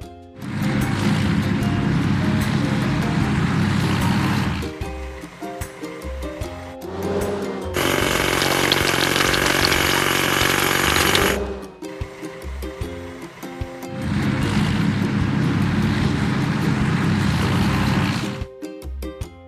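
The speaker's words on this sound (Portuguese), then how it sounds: "Martelo hidráulico." A hydraulic hammer breaks rocks in a children's truck and tractor video game: loud, dense rattling bursts lasting several seconds alternate with quieter stretches of game sound, with no talking.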